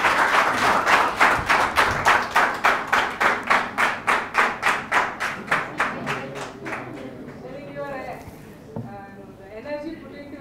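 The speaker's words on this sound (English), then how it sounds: "The energy put into your claps itself says that how was his lecture." An audience claps after a special lecture, a fast, even rhythm of loud hand claps that thins and fades toward the end, with some voices murmuring underneath.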